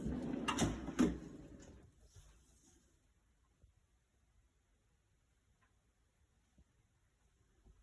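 A Snap-on toolbox's top drawer slides open with a brief close rattle and clunk over the first two seconds, followed by near-silence with faint ticks.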